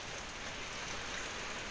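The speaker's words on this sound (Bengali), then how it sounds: "এত বৃষ্টি, আকাশটা কালো হয়ে আসতেছে, মনে হয় আরও বৃষ্টি নামবে" Steady rain falls outside a home courtyard under a darkening sky, a dense continuous patter with no voices over it.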